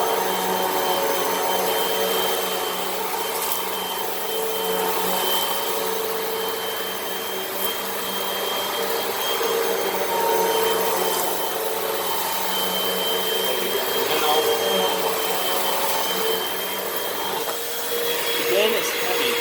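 A Hoover Rewind vacuum cleaner runs on carpet at a lower power setting after a power-drive pass, a loud steady whine and hum that stays constant throughout with slight shifts as it moves.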